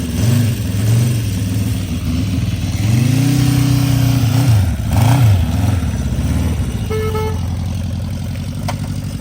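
A restored Honda CB350 Four motorcycle engine idles and revs up and down several times, close by, with a steady rumble between the throttle blips.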